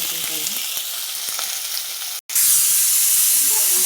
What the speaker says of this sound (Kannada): ಚೆನ್ನಾಗಿ ಫ್ರೈ ಆಗಬೇಕು